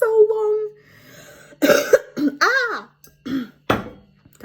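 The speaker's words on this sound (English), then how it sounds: "Coughing is not a good idea" A woman coughs several times in short, harsh bursts at close range, with some throat clearing and a little speech mixed in.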